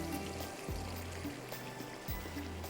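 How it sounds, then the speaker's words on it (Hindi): Water and milk pour into a pot of aloo korma, a soft, faint trickle running steadily with a low hum in the background. "थोड़ा सा पानी डाल लें, दूध डाल लें"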